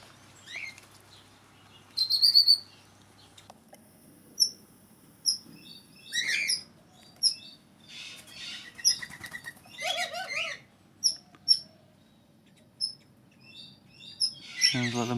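Several birds in a pheasant aviary call and chirp in scattered bursts, with repeated wing flapping and a few sharp high tweets over a quiet low background.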